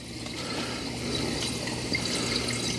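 Steady flow of water from a homemade low-tech water spreader in a greenhouse, heard up close as a continuous even splashing rush.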